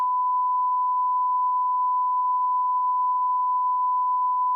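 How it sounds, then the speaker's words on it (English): A long censor beep: one steady, unbroken pure tone that holds at the same loudness for several seconds, loud and alone with no voices over it. "really long beep that I just had to put in there"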